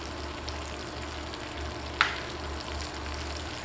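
Garlic being added to a hot pot while making a one-pot paprika chicken and rice, giving a steady low sizzle with one brief sharp crackle of hot oil.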